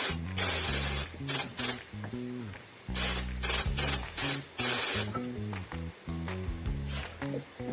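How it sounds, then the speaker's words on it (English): Compressed air forces a tight piston out of a defective pneumatic CV joint boot installer, a loud hissing blast broken by short pulses and stuttering mechanical tones at close range. "The piston is very tight. It took me some air pressure to put it out."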